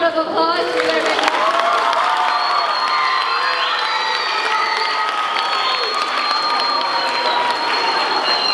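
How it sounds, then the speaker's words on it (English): Loud, sustained applause from a school pep rally crowd, with cheering, whoops and children shouting carried over a steady wall of clapping for the full length. "give them a big round of applause"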